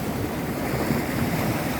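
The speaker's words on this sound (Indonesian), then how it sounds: "Dan demburan gelombang ini" Ocean surf at Muarareja beach near Tegal rolls as a dense, steady wash of noise, with wind over the microphone and no voices.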